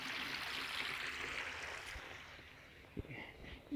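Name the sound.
flowing stream of dirty water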